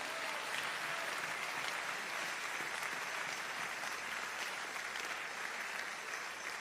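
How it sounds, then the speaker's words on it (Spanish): A church congregation applauds loudly and steadily, a dense, continuous wash of clapping with no gaps, filling the room at even intensity throughout. "Vamos a dar un aplauso fuerte a Dios."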